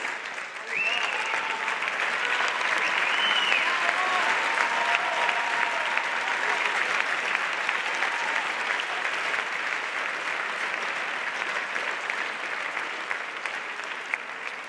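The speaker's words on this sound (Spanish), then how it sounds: "ese aplauso para Burbutrices" Sustained applause from a gala audience honouring an award winner at the XXXIII Gala de Populares Nueva Alcarria 2021, steady and full for the whole stretch, with some faint voices mixed in.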